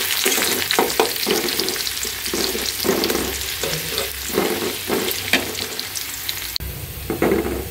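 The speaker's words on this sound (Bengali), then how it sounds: "এই যে দেখেন চুলাতে আমি তেল দিছি এখন পেঁয়াজটা দিয়ে দিলাম" Onion hits hot oil on a stove and sizzles loudly and continuously, with scraping and stirring clatter close up and no voices.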